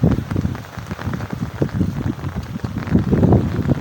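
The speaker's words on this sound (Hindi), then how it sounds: "बारिश जो है वो चल रही" Heavy rain pours onto flooded fields in a Punjab village, a loud, close, steady patter with dense drops on wet surfaces that swells slightly toward the end. No one speaks.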